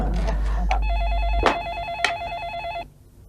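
An office telephone rings with a warbling electronic trill for about two seconds, loud and close, with a few thumps and bursts of background noise around it before it cuts off.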